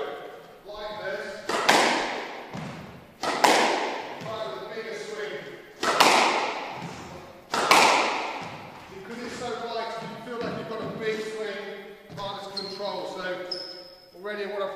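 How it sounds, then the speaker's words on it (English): A Black Knight Quicksilver NXS squash racket strikes the ball about four times at roughly two-second intervals, each a sharp, loud hit, under someone talking throughout. "as I'm hitting that ball, you've got to have, probably best if you've got a slightly shorter stroke."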